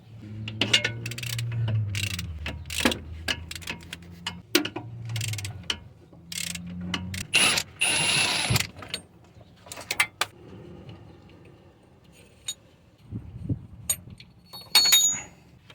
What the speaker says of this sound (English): now I'm gonna be loosening this two here for the power steering pump. 12mm bolt.